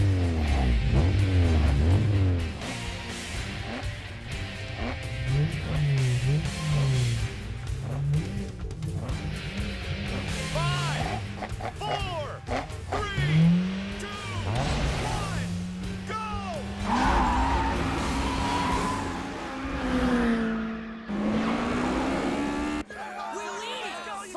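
Race cars in an Initial D anime street race, engines revving and accelerating with rising and falling pitch sweeps, tire squeals and passing roars, loud and continuous, mixed with voices and music.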